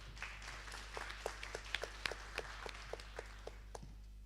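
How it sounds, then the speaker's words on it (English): Applause from an audience at a startup venture forum, sparse, distinct claps at a steady rhythm, faint and distant over a low hum. "A round of applause."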